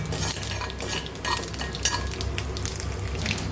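Mustard seeds, cumin and urad dal roast in a hot pan, giving a dense, continuous crackling sizzle with light stirring scrapes, close and steady throughout.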